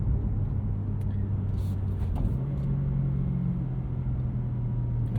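A 2023 BMW M2 with a six-speed manual rolls at low speed around a parking lot, a low steady engine rumble that dips and settles into a lower drone partway through.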